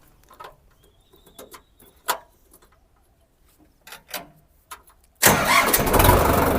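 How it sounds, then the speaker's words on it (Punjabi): Scattered faint clicks and noises, then a 2021 Preet tractor engine abruptly roars to life and keeps running loudly. "ਤੇ ਟਰੈਕਟਰ ਦੀ ਸਟਾਰਟਿੰਗ ਦੇਖ ਲਓ"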